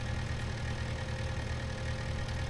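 A smooth-running tractor with a cab idles in a farming video game, giving a steady, even mid-to-low engine drone with no talking over it.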